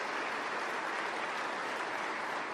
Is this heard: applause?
yes